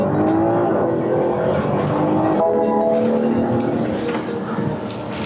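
A BMW car switched into sport mode accelerates, its engine giving a steady, loud, rising drone with a slight dip and climb partway through, heard from inside the car without talk.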